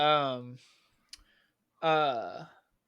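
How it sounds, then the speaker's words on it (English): A cat gives two drawn-out, wavering meows separated by a short pause and a faint click, fairly close and loud, with no other sound behind them. "Listen to the cat meow"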